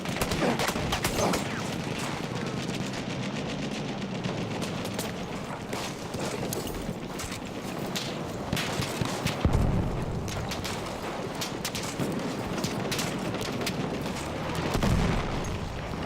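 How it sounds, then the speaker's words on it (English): Light machine gun fire in the video game Battlefield 1, sustained bursts of rapid shots mixed with distant booms and battlefield gunfire, dense and loud throughout. "Let's stand up and shoot your light machine gun"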